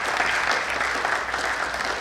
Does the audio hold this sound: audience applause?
yes